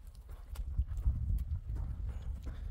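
Hooves of a grey-blue horse clip-clop steadily and close by, a muddled run of soft thuds on the ground in a village in Ala-Buka district, with no voices.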